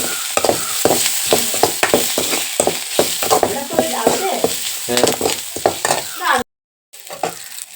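Sliced onions frying with drumstick leaves and curry leaves in a pan, a close crackling sizzle with rhythmic stirring scrapes, cut off briefly by a moment of silence near the end.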